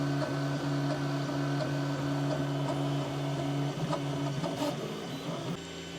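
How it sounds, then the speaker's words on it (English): A 3D printer lays down layers for a 1/14 scale excavator ripper bucket, giving a continuous close motor hum with steady tonal stepper whine and occasional small clicks as the head moves. "it's just printing the other side now"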